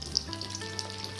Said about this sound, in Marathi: आपण आलं पण असं तळून घ्यायचंय.